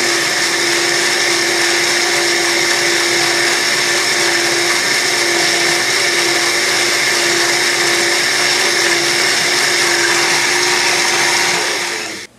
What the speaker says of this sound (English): Blended up 1 can of tomatoes.